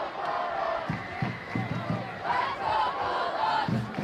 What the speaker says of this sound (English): Crowd is loud and excited, into it, the whole thing, the scene, the field, everything.